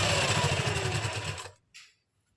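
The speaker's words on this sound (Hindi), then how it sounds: "इसके ऊपर हम ऐसे मिलाते हुए पूरे में सिलाई लगा देंगे।" A sewing machine runs steadily with a loud, continuous whir while stitching the lining of a kameez, then stops abruptly, followed by a brief faint rustle.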